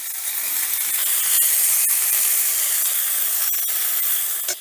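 Eggplant pieces fry in hot oil, a loud continuous hiss and sizzle close up, steady throughout with a few faint clicks, no talking.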